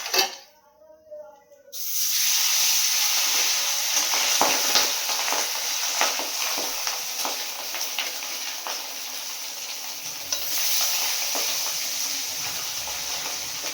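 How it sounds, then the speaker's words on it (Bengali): Pabda fish lowered into hot oil bursts into a loud, continuous sizzle after a brief quiet start, spattering and crackling close by, with a few faint handling sounds. "আমি মাছ ভাজাটা এবার বসিয়ে দিচ্ছি।"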